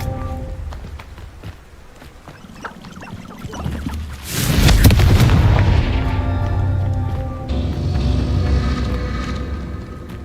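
A Confringo fire spell in Hogwarts Legacy bursts into a loud explosion about midway, a roaring blast that decays into a long rumble over game ambience and music.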